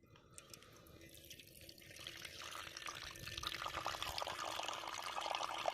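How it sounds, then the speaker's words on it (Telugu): Milk poured from a height into a hot clay pot for pot coffee, a steady splashing liquid stream that builds gradually and grows louder, close by with no talk. "మట్టి కుండలో లీటర్ పాలు పోసి కాఫీ వేసేద్దాం."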